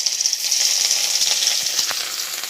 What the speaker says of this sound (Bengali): দেখুন আমার মাছগুলো সুন্দরভাবে ভাজা হয়ে গেছে